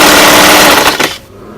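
A sewing machine stitches half-inch seams in T-shirt fabric with a loud, rapid mechanical rattle close by, running for just over a second before stopping abruptly.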